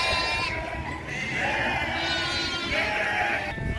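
A flock of sheep bleats in a windy village pasture, several overlapping calls rising over steady gusty noise.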